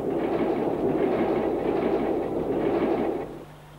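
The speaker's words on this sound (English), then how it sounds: "An unusual view of class 26 on this up freight train." A class 26 diesel locomotive hauls a freight train past at steady volume, with a continuous heavy rumble and wheel clatter over the rails, then it fades suddenly near the end.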